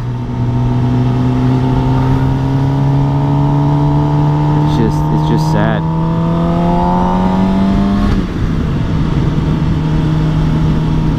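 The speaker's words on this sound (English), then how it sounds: "it's crazy seeing these old cars from the 50s. Every single one of them has been converted to diesel" An old 1950s car converted to diesel revs loudly and steadily for about eight seconds, its pitch rising gradually, before dropping off; a voice speaks briefly over the engine.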